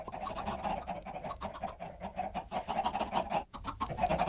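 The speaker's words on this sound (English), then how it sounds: "We could throw in a number of chicken eggs, and you'll get a number of chickens, of course." Chickens clucking in the Minecraft video game, a steady run of short repeated clucks and squawks close up, with no talking over them.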